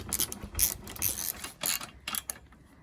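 A ratchet wrench clicks in several quick bursts as a bolt is snugged down, not fully tightened, the close metallic pawl clicks loud and alone with brief pauses between strokes.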